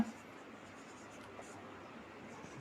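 Faint scratchy strokes of writing on a classroom board during a history lesson, a low steady scraping with no voice over it.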